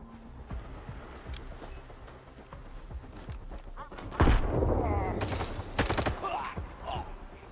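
Video game gunfire rattles through the scene in bursts, with a loud volley erupting midway and repeated shots continuing over a dense, noisy background.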